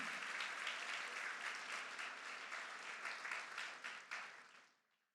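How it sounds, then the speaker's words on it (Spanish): A church congregation claps together in sustained, lively applause that fills the room, then fades out over the last second. "Si va a aplaudir, aplauda al Señor esta mañana."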